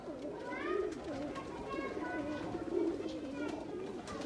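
Ferozepuri and Banka breeder pigeons, a pair of males, coo repeatedly in low throaty rolling phrases close by, while someone talks over them throughout.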